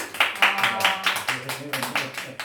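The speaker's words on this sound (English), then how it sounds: "So a big round of applause to him" A small group claps for a chief guest at a family anniversary celebration, with distinct uneven hand claps under overlapping chatter and talk nearby.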